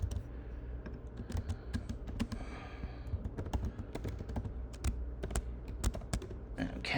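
Steady computer-keyboard typing while R code is written for a statistics lab function, close and clear with quick irregular keystrokes and short pauses, no one speaking.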